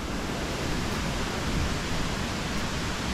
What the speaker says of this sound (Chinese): 我看到那边有很多的水花一直冒出来，哇，越靠近声音越大哎